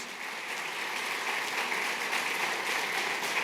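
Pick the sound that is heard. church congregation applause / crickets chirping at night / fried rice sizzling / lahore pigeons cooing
church congregation applause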